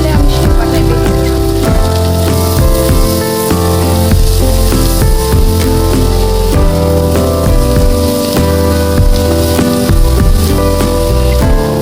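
Fish heads sizzle in hot cooking oil with a continuous, rain-like crackle that holds steady for several seconds, mixed with background music.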